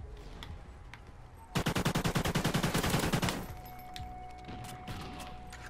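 A sustained burst of rapid automatic gunfire in a video game, loud evenly spaced shots lasting about two seconds, with quieter game sounds before and after.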